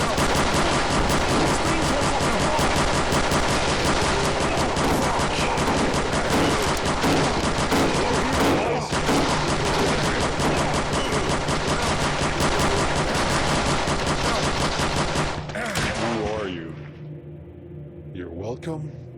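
Dense, nonstop automatic gunfire and explosions from the PC game Dark Days, loud and continuous for most of the stretch with a voice shouting over it, then cutting off abruptly as the shooting gives way to quieter ambience.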